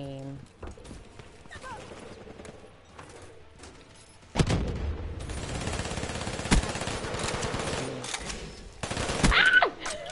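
Rapid bursts of gunfire in a PS4 shooter, with repeated sharp shots and a dense barrage building toward the end, loud over game noise and voices talking.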